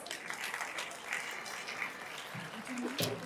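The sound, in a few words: audience applause welcoming a guest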